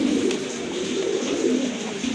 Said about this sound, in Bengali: ব্লু চেক কালার ভিতরে কবুতর